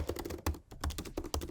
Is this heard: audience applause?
no